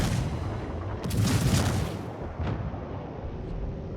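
The battleship Bismarck's big guns fire in a naval video game battle: a heavy booming salvo swells and rumbles for about a second, followed by a few fainter distant thuds under a steady background roar.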